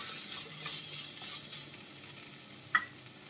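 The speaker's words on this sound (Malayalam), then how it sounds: "ഇനി നമുക്ക് നന്നായിട്ടൊന്ന് വറുത്തെടുക്കണം" Small shallots sizzle steadily in hot oil in a pan while being stirred for a prachi curry, with one sharp clink of the spoon near the end and no voices.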